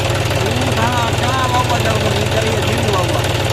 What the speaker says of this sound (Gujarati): જો ટ્રેક્ટર પછી ટ્રેક્ટર ચાલુ થઈ ગયા હે